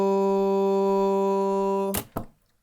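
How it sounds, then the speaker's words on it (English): A vocal note runs through heavy autotune with its pitch curve flattened completely, so it holds a single fixed, buzzy tone for about two seconds. Two short thumps follow as it cuts off. "Now you're starting to hear that famous autotune effect"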